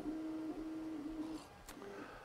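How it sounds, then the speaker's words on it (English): 3D printer from TH3D Studios printing a Benchy benchmark boat, a steady stepper-motor whine droning in the background for over a second before it stops, with faint room noise and a brief click near the end. "we got a printer going in the background, and it's printing off a Ben the Benchy, a new Benchy benchmark"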